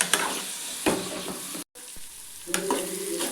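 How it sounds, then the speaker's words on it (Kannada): Finely chopped bitter gourd frying in oil for a palya gives a loud close sizzle with spatula scrapes and stirring clatter, cut by a brief moment of silence before the sizzling resumes. "ಇವಾಗ ಒಂದು ಫೈವ್ ಮಿನಿಟ್ಸು ಹಾಗಲಕಾಯಿನ ಎಣ್ಣೆಲಿ ಫ್ರೈ ಮಾಡ್ಕೊಂಡಿದ್ದೀನಿ"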